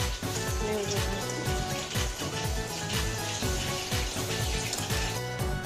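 Hot water pouring and splashing in a home kitchen during snack preparation, with a pulsing, rhythmic sloshing that stays loud and close, with faint background voices.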